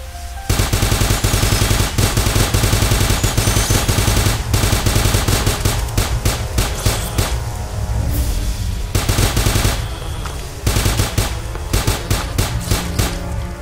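Rapid automatic gunfire from a weapon in the Starbound video game, a dense continuous stream of quick shots lasting throughout with brief gaps, loud and up front.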